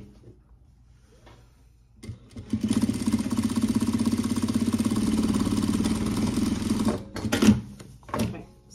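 A sewing machine stitches an uluaq bag shut, running in one steady, fairly loud mechanical burst for several seconds, then stopping, followed by a few short handling noises.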